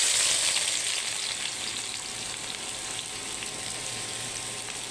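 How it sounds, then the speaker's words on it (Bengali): Sliced onions frying in hot oil to make beresta, crisp fried onions for tehari and roast. A continuous, fairly loud hissing sizzle holds steady throughout, close and with no talking. "তেলটা গরম হয়ে গেছে, এখন একটু পেঁয়াজ দিয়ে বেরেস্তা করে নেব"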